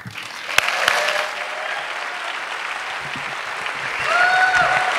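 A conference audience applauds as speaker Zack Shapiro is welcomed to the stage; steady clapping from the crowd, swelling slightly toward the end, with a few faint tones ringing underneath.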